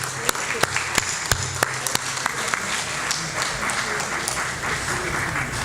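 At a senior center volunteer recognition, an audience gives a round of applause for volunteer nominees, steady clapping with a few sharp louder claps standing out near the front.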